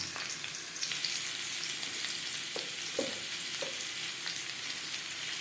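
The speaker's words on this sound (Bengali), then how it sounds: "এবার আমি আলু ভেজে নেব।" Boiled potatoes fry in oil for mutton biryani, a steady close sizzle with crackling spatter and a few light utensil taps, with no voices over it.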